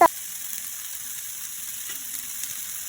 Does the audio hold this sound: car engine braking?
no